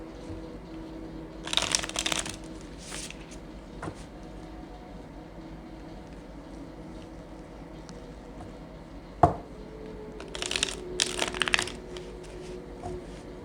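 Tarot cards being shuffled for a full moon reading, heard as two bursts of quick riffling, one early and one late, with a sharp tap near the middle and quiet room tone between.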